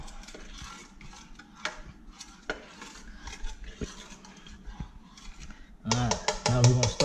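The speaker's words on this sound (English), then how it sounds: "Stir it up a little bit." A spoon scrapes and clinks around a pot of wild javelina stew with seasonings, in irregular stirring strokes, followed by a voice speaking at the end.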